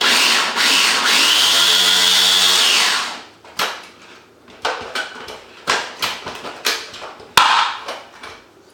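An electric food chopper whirs loudly and steadily as it finely chops onions, running for about three seconds before stopping, followed by several short clatters and knocks of the appliance being handled.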